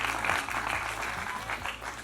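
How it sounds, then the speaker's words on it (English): Steady audience applause fills the room for a panel group at a 2016 business summit, a dense wash of many hands clapping continuously at moderate volume. "So big round of applause for the complete group."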